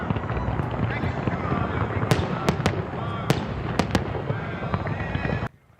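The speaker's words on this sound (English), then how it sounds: "the legendary Tropicana went out in true Vegas style yesterday with fireworks as the opening act for the implosion" Fireworks crackle and pop at the Tropicana casino implosion in Las Vegas, a dense, continuous stream of bursts with several sharp loud bangs, ending abruptly.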